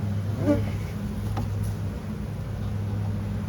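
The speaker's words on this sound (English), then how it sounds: "This one's packed with bees." A steady low hum of many honeybees droning continuously in a packed hive, with faint brief sounds above it and no talking.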